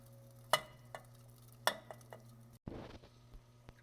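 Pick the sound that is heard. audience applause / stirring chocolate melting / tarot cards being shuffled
stirring chocolate melting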